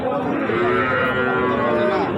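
Cattle at a village cattle market where young heifers and bulls are sold, with a loud, close, sustained moo that fills the whole moment against a busy background.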